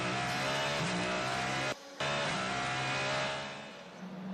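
A Cadillac race car roars at Le Mans, heard onboard as a loud, sustained engine drone with a brief cut around a gear change and shifting pitch as it accelerates.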